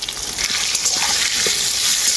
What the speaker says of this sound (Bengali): কড়াইতে দিয়ে দেবো সর্ষের তেল তেলটা খুব ভালোভাবে গরম হয়ে গেছে আলুগুলো আমি ভেজে নেব আমি আলুগুলো ভাজছি